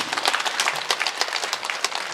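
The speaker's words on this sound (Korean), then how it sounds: "우리 주님께 영광의 박수 돌리겠습니다" Church congregation clapping in praise during a service, a brisk, uneven patter of many hands lasting about two seconds with no voices over it.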